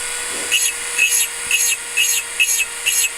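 A rotary engraving tool with a rough diamond burr grinds into a glass vase in short repeated passes, about six brief high-pitched scratching bursts over a steady motor whine.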